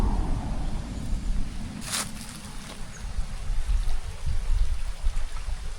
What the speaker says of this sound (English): It's the river.